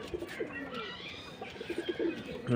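Pigeons, including a kaldum pigeon, coo softly in repeated low rounded calls, with faint chirps and rustling around them.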